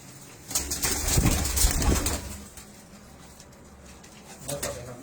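Teddy pigeons cooing on a rooftop, with a louder burst of coos and possible wing flutter early on, then softer cooing and a small swell near the end, no talk.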